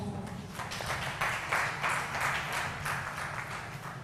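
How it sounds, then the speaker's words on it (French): A crowd at a university debate championship quarter-final applauds steadily, the clapping dense and sustained throughout, fairly close with a low room rumble beneath. "Madame Nafissatou Yakoubou, sous vos applaudissements."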